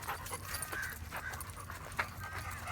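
Akita dogs panting close by, rapid rhythmic breaths with light whimpers and shuffling paws, steady and fairly quiet throughout with no talking.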